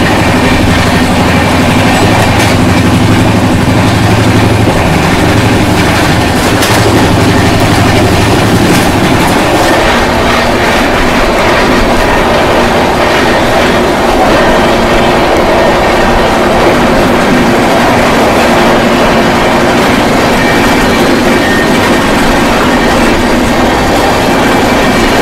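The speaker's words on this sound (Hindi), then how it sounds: "हमारी ट्रेन जो है वो धीरे चल रही है, क्रॉल कर रही है" Sampark Kranti Express rolls slowly along the rails, heard from on board as a loud continuous rumble with rhythmic wheel clatter and metallic rattling throughout.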